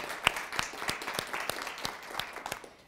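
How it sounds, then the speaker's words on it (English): A small audience gives a short round of applause at a design school lecture, the claps sparse and individually distinct, moderately near, with no talk over them. "Can we just give them a quick round of applause?"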